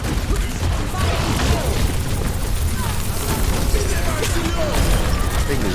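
A dense wall of video game trailer explosions rumbles without pause, heavy booms and crackling bursts stacked loud and continuous, with some voices mixed under the din.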